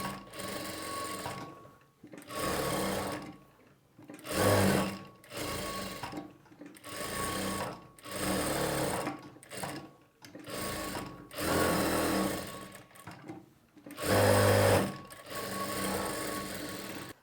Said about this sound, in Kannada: ಅಟ್ಯಾಚ್ ಮಾಡ್ಕೊಂಡ ನಂತರ ಡಾಟ್ಸ್ನ ಸ್ಟಿಚ್ ಮಾಡ್ತೀವಿ.